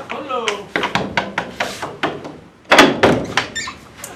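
A fist bangs on a closed door in a domestic drama scene, with a steady series of heavy thuds and a louder burst of knocks partway through, while a voice calls out over them.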